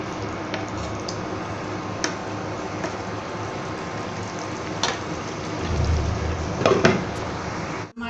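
Vegetable bhaji frying in a pan in a home kitchen, giving a steady, soft sizzle with small crackles and a few louder pops and stirring sounds near the end.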